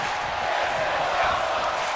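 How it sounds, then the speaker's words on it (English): A packed wrestling arena crowd at a Royal Rumble match roars, a loud, unbroken wash of cheering and shouting with no single voice standing out. "The sound of this crowd is deafening"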